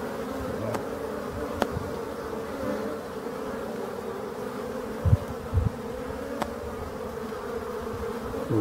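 Black bees buzzing around a hive in a forest, a loud, dense and continuous drone close by, with a few brief thumps and clicks over the steady hum, with no talking.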